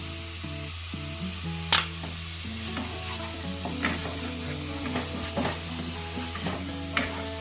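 Ginger, garlic and green chilli paste fries with onion paste for Bengali doi katla, giving a steady close sizzle broken by a few sharp clinks and scrapes of a spatula, with no talk.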